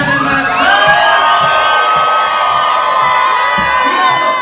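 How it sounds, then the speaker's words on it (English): The red crew at a pirate dinner show erupts in loud cheering for their cannon master, a continuous mass of shouting and whooping voices close by, filling the whole moment. "Red crew, how will you cheer for your cannon"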